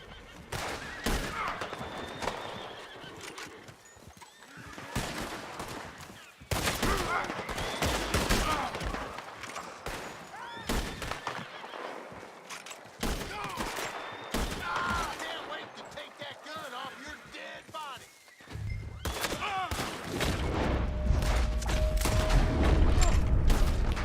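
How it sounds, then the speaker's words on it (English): Heavy-hitting gunfire in Red Dead Redemption 2, a mix of sharp shots and bursts scattered through the scene, with horse whinnies and hooves nearby and a voice talking over the action. "These guns hit really hard."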